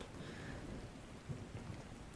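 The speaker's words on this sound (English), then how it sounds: "It looks like that rock is actually wet because it's raining." Steady, soft rainfall in ARK: Survival Ascended, a continuous even hiss of drops with a few faint low rumbles and no voices.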